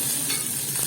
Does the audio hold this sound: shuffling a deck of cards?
no